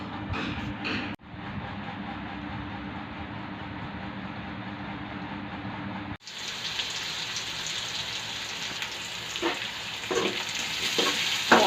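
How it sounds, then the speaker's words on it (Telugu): Nalleru fried with green tomatoes, toor dal, cumin and coriander seeds sizzles steadily in a pan, with a brief pause before a louder, brighter sizzle picks up, punctuated by stirring clatter. "బాగా నల్లేరు, పచ్చి టమాటాలు, దాంట్లో కాస్త కందిపప్పు, జీలకర్ర, అలాగే ధనియాలు ఇట్లా వేసి బాగా ఫ్రై చేసి పెట్టుకోవాలి"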